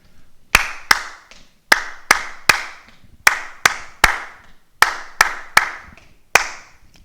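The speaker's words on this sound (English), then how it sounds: "I'm going to clap both in a row." Crisp, close hand claps played as two short rhythm patterns one after another, each a loud sharp snap falling in uneven groups with brief gaps between them.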